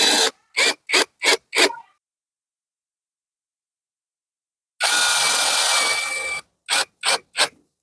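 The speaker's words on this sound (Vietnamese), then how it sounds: "Rồi mình sẽ dùng vít ha, mình bắn cố định luôn cái phần này nha các bạn." Cordless power drill driving screws into the body of an old electric kettle under repair, in four short bursts, then a long continuous whir, then three more short bursts, loud and close with no talking.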